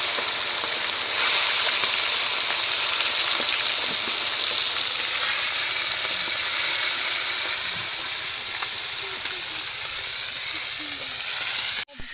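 Tengra fish from the Bidyadhari river fry in hot oil at a Sundarbans food stall, a loud, dense, continuous hiss and sizzle lasting throughout before cutting off abruptly at the end.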